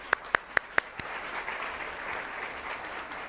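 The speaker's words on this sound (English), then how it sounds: "Round of applause." At an occupational therapy pinning ceremony, a few loud, sharp nearby claps ring out in a steady rhythm, then a wider audience joins in with continuous, moderate applause filling the room.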